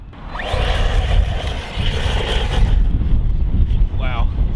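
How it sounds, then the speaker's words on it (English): Strong wind buffets the microphone outdoors at an RC buggy run, a loud, steady roaring rush with a brief whine near the end. "Wow, so windy."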